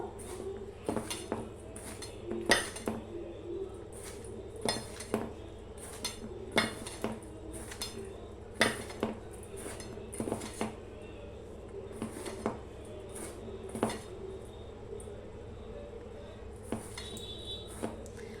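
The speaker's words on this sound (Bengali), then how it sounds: "সমস্ত শুকনো উপকরণগুলো আমি ভালো করে মিশিয়ে নেবো" Spoon clinking and scraping against a bowl while dry biscuit ingredients, chopped nuts and a couple of spoons of oil are mixed at home, with repeated sharp close taps in an uneven rhythm.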